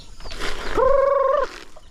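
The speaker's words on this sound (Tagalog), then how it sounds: "Ayan, may manok din sa labas." A chicken on a farm gives one drawn-out, harmonic call with a slight wobble, set against rustling background noise and light clatter.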